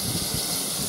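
LMS steam locomotive 45596 Bahamas, hauling the Kentish Belle at Faversham, lets out a continuous broad hiss of steam that is loud and close, holding steady for the whole moment.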